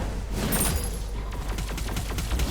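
A rapid-firing flame gun in the mobile game Marvel Super War, heard as a quick run of sharp repeated shots with hero ability effects, loud and up close.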